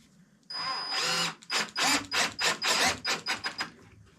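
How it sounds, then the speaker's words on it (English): Power drill driving 1 3/8 inch screws into a wooden board for a kid's airplane wall shelf: a long whir, then about eight short, loud bursts in quick succession, close up with no talk. "Just make sure you pre-drill those screws, because now you're drilling down on top of that board"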